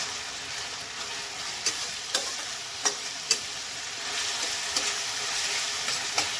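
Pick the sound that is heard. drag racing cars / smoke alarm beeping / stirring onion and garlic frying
stirring onion and garlic frying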